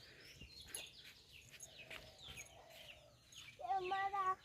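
Chickens wander a village yard near a pond, giving scattered short clucks and chirps at a modest distance. A louder, more tonal call rises near the end, with light background voices.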